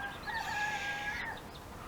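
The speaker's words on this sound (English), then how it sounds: "That's chicken, enough now." A rooster gives a drawn-out, rising crow at moderate distance, a thin wavering call over quiet outdoor background noise with no talk.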